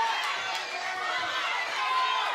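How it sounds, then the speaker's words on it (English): A boxing crowd at a women's bout roars steadily to urge both fighters on, a dense, continuous wash of cheering and shouting without a break. "Crowd trying to urge both fighters on."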